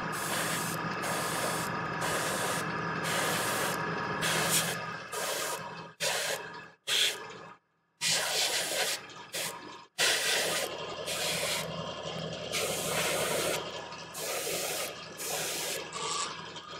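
Airbrush spraying paint onto a Games Workshop Warhammer 40K Magnus the Red model, red skin and wings: steady hissing bursts, close and loud, with short pauses between sprays.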